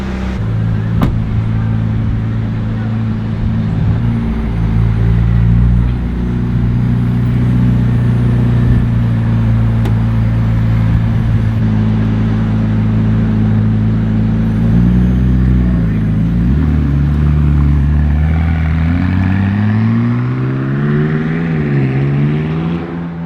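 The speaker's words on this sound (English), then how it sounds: "now that I've just heard this engine, I've just revved it a little bit, it actually sounds really good" A track-oriented car's engine drones loudly and close, holding a steady rev with strong low harmonics, then rising and falling in pitch as it is revved near the end, with talk faintly under it.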